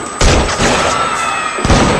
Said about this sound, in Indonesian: aksi tembak-tembakan pun terjadi